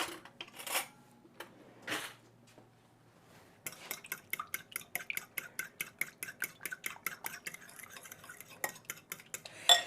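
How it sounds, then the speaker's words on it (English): A utensil stirs heavy cream, egg and cheese for macaroni and cheese in a bowl, starting with a few scattered clinks, then settling into a steady, rhythmic tapping and scraping against the dish. "So we're going to mix the heavy cream and the egg and the cheese."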